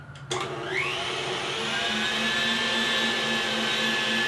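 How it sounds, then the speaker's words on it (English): An electric whisk runs steadily through a marshmallow mixture in a bowl, starting after a brief bump and then holding a loud, continuous motor whine with a rising pitch for the rest of the stretch. "we're gonna whisk it again for about 30 seconds or until everything is fully incorporated"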